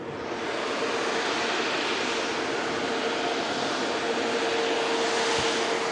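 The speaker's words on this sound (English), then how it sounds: "Nice quick taxi for the Qatar Airways A350 as she makes her way into Terminal 2 in Manchester." A Qatar Airways A350 taxiing at Manchester Airport toward Terminal 2, heard as a steady, dense jet engine roar with a faint whine that stays loud and even throughout, with no voices.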